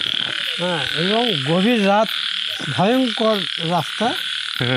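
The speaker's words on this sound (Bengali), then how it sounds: "ব্যাঙের ডাক বিশাল।" Frogs croak loudly on a forest road at night during the monsoon season, a chorus of repeated rising and falling calls in bursts, with people talking quietly underneath.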